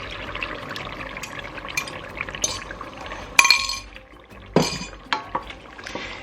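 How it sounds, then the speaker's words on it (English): Beaten eggs are poured into a pan for an African egg sauce served with plantains, giving a soft liquid pour, faint clinks and a few sharper taps of a bowl or utensil against the pan, close and fairly quiet. "let's pour in the eggs"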